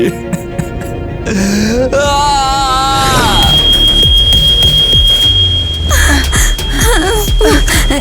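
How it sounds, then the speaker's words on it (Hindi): An alarm sounds with a loud, sustained shrill tone that holds steady over several seconds, while other noises and brief voice sounds come and go beneath it. "अब अलार्म बज रहा है।"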